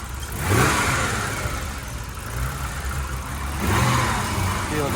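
A BMW 635 CSI engine revs up twice, each rise swelling then falling back to a rough, uneven idle between bursts.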